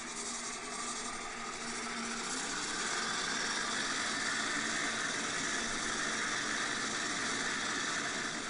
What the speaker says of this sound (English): Both engines started.